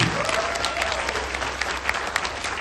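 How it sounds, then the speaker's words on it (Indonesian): Applause from an office crowd at a farewell party, a steady wash of many hands clapping, moderately loud and continuous for a few seconds. "Sekali lagi tepuk tangan meriah untuk Bapak Fuad Fauzi."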